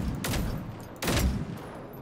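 In a video game, shots are fired at small tanks, heard as two sharp, loud bursts of gunfire about a second apart over a steady background rumble.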